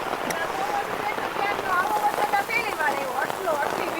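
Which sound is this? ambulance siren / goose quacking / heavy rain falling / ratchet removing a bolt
heavy rain falling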